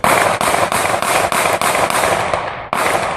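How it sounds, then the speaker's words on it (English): Rapid gunshots fired by a police officer ring out in a cell phone recording, a fast series of about eight sharp, loud cracks at near-regular intervals with a brief gap before the last one. "shooting 50-year-old Walter Lamar Scott in the back while Scott is running away"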